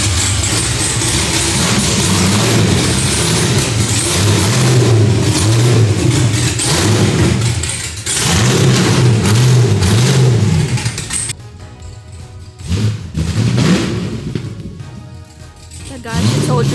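A car engine revving hard in repeated rising and falling pulls, loud and close, with a brief lull and a final burst near the end while people talk over it.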